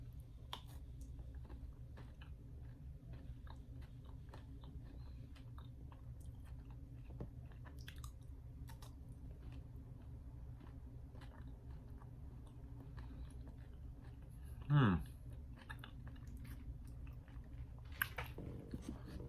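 Fruity Pebbles cereal candy bar in white chocolate, king size, chewed steadily with soft, close crunching and squishing, faint and continuous, with a slightly louder bite near the end.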